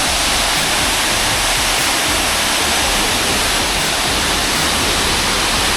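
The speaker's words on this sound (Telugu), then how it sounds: "వాటర్ ఫాల్స్ అయితే మామూలుగా లేదు" Tarabu waterfall in Andhra Pradesh roars loudly and steadily, a dense, unbroken rush of falling water close by that fills the whole stretch with no voices.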